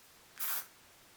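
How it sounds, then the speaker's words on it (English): A single short spritz of hair product sprayed onto a hand, one brief soft hiss lasting a fraction of a second, close and alone against a quiet room. "I just want to spray a little on my hand to see."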